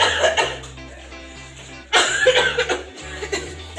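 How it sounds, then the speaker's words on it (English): A person coughs at a high school basketball playoff game, with a few short coughs and throat-clearing sounds mixed with soft laughter. Background music runs underneath. "You're still coughing."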